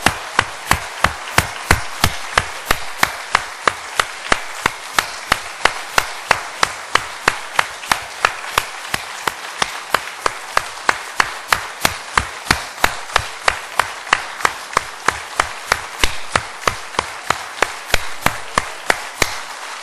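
A church congregation applauding, steady rhythmic unison clapping with sharp, evenly spaced claps that carry on loudly and alone for about twenty seconds.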